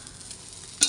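An egg omelette frying in a pan, heard as a soft, steady sizzling hiss ending in a brief, brighter crackling burst, with no voices.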